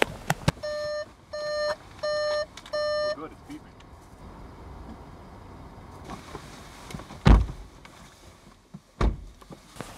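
Four short electronic warning beep bursts from a Volkswagen Atlas in a steady rhythm, clear and close, followed by quiet cabin noise and a couple of thumps.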